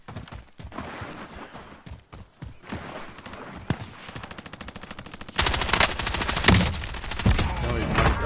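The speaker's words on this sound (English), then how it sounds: "Sustaining fire." Sustained automatic gunfire in a shooter video game, rapid bursts of shots with a loud, denser stretch of continuous firing toward the end.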